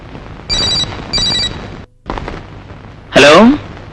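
A telephone rings in two short, bright bursts close by, followed by a pause and a louder sweeping sound in a horror thriller film scene.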